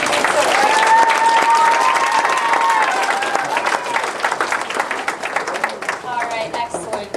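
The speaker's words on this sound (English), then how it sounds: "How about you folks give Charlie a big round of applause?" A crowd applauds steadily with dense, continuous clapping that slowly thins out, while a voice speaks over it.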